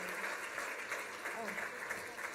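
Applause from an audience at a university staff awards ceremony rises briefly as nominees are announced, a dense patter of many hands clapping with a voice speaking over it.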